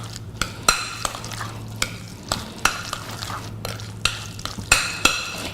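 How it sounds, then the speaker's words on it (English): Guacamole being stirred in a bowl for a Mexican vegetarian dish, with a steady run of close, wet scraping strokes and sharp clicks of a utensil against the bowl, each stroke marked by a distinct knock, and no voices. "And then we're just going to give it a good stir."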